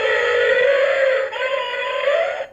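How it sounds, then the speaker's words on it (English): An electronic sound effect from a toy elephant figure: a bright, synthetic trumpeting wail that holds for about two seconds with a slight pitch bend midway, loud and alone. "The elephant also has sound, which sounds like this."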